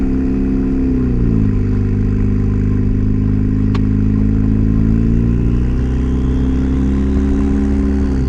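A budget Nissan turbo car engine idles loudly and steadily close by, its pitch rising briefly as it revs, then settling back into a rough, constant rumble.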